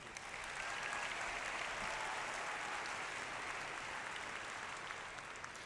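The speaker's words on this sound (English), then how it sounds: "Let's give him a round of applause." Sustained applause from a large audience at a 2019 high school graduation ceremony for Discovery Canyon Campus, steady and full throughout without pause, with no speech over it.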